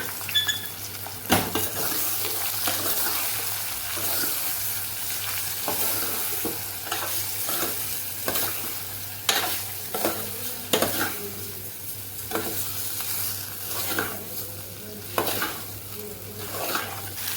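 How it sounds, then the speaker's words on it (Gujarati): Oil sizzles steadily as potatoes fry in tempering oil in a pot, broken by repeated scraping and stirring clatters from a spoon against the pot. "આપણે બટેકાનો વઘાર કરી દઈશું"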